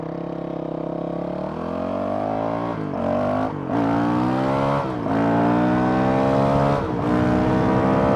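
A Honda CRF 450 RL dirt bike with a Taipan AIM ECU revs hard on a stretch of road, its engine pitch climbing steeply through several gears. Brief drops mark each shift, and the sound stays loud and close throughout.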